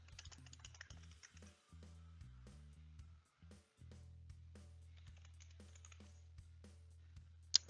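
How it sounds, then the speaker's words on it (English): Soft, quiet clicks of keys being tapped in short irregular bursts, close by, over a low steady hum. "just enter it with your keyboard."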